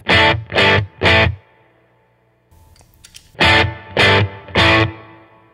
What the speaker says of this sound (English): And that's just the hall reverb.